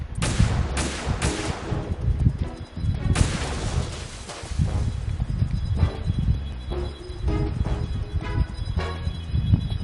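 Sniper rifle fire in Metal Gear Solid 2 rings out as several loud, sharp shots with ringing tails, some fired in quick succession and others spaced apart, over a busy rumbling background of action.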